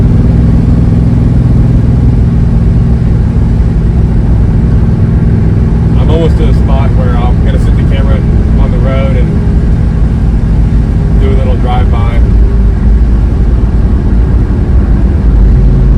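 A 1967 Dodge Coronet 440 with a big block V8 revived after sitting dead for 20 years runs with a loud, continuous rumble that never lets up, while people talk over it in the middle section.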